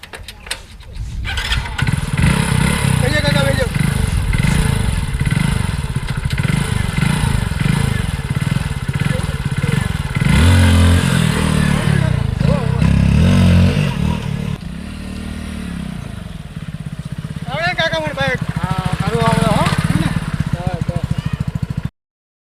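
A motorcycle engine runs with a steady throbbing rumble, revving and idling up close while people talk loudly over it.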